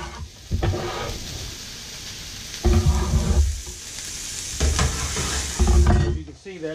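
Vegetables sizzle in a hot pan with olive oil, a steady frying hiss broken by three loud bursts of stirring and tossing.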